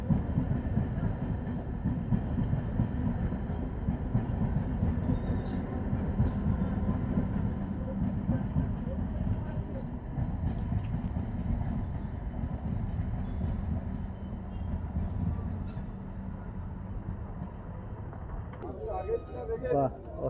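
A Lalgola passenger train runs past a level crossing, a steady loud rumble of wheels and carriages that fills the whole stretch, with a brief clatter near the end.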